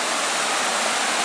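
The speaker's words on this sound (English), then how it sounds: "these waterfalls just don't get old, man" Waterfall along the Eagle Creek Trail in Oregon, a close, steady, full rushing roar of falling water heard alone for a brief moment.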